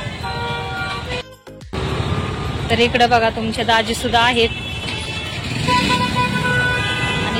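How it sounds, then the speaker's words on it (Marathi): Busy road traffic in Pune, with a steady rumble of engines and repeated car and truck horns honking close by, while someone talks over the noise. "बघा ट्रॅफिक कसं लागलंय पुण्यामध्ये"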